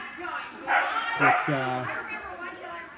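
A loose dog barks and yips out on a dog agility course at a biathlon event in Canada, giving a few short, close barks and whines amid commentators talking over it.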